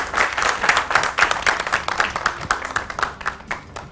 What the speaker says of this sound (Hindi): बहुत सारी तालियों में भाई